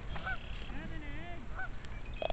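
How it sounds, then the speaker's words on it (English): Agitated geese honk near a pond where one nests on seven eggs, giving repeated harsh, rising and falling calls at moderate distance over steady outdoor background noise. "it does not sound like the geese are happy"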